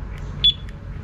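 Two-way alarm on a Suzuki Raider carb motorcycle giving a single short high electronic beep when locking, faint and brief against a low background hum.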